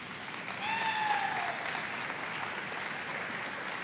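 Sustained applause from a gym crowd during girls basketball senior night, Catoctin vs Brunswick, steady and moderately loud, swelling slightly early on, with a brief whistle-like tone over the clapping.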